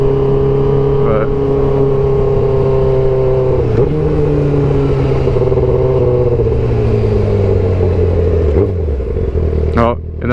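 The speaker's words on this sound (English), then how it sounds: "oh, and then I quick throttle blip it into neutral" Yamaha R7 motorcycle engine running steadily near, with a sharp throttle blip and quick rev rise near the end as it drops into neutral; a voice talks over the engine drone.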